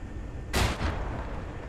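A tank cannon fires a shell at a half-track in a World War II video game, a single sharp, loud blast with a brief rumbling tail against quiet background.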